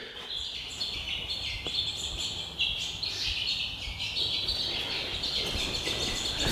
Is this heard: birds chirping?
yes